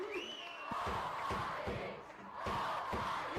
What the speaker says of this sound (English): The crowd absolutely frenetic.